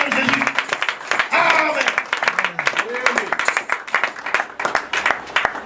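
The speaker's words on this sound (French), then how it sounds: "Est-ce qu'on peut acclamer pour le Seigneur?" A church congregation claps and cheers for the Lord, a dense steady mix of hand claps and raised voices at close range, with shouting throughout.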